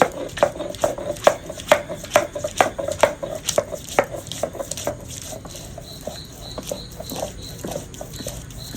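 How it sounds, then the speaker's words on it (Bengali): Ginger and garlic are pounded into a paste, a rapid run of close, sharp rhythmic thuds and scrapes that slows and softens toward the end, with no talking. "দেখো এখানে আদা রসুন আছে এখন বেটে নিচ্ছি"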